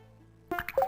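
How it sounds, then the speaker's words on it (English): Water droplets dripping in the video game Pier Solar, a few distinct plopping drips in quick succession after a short near-silence, clear and close. "Oh, that's interesting, the water droplets."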